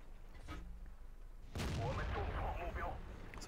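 A single heavy tank cannon shot in the World of Tanks video game, a sharp boom followed by a rumbling tail, with someone talking quietly underneath.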